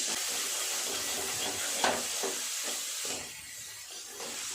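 Cumin seeds and a dried red chili broken in two sizzle in a little hot oil in a pan, a steady close hiss with a few small pops and crackles, no voices.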